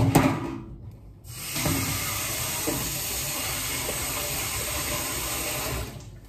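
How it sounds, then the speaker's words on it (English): Water runs steadily into a very hot dish to cool it, a broad, even hissing pour lasting several seconds after a brief splash, close by and alone, then cutting off. "I'm just putting water in it so it cools it down a bit"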